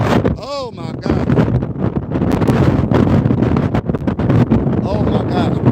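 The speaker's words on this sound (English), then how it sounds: "It's windy as a mug. It's so windy." Strong outdoor wind buffets the microphone as dusk falls, a loud, continuous low roar and rumble that runs the whole time while someone talks over it.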